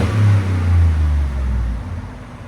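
A 2022 Ford F-150's 5.0L Coyote V8 breathes through a Borla Pro XS exhaust with the resonator on, blipping twice in a loud, deep, nearby rumble before settling back to a lower idle burble.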